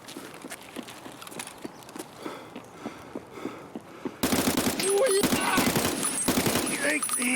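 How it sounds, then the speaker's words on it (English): Gunfire from a sniper scav rings out during a video game raid. Quiet footsteps tick along at first, then bursts of loud close shots and rapid fire break in abruptly and keep going to the end. "sniper scav all the way up there shooting at me already"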